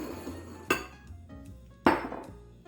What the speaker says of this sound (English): I'm gonna take his pasta, put it in this dish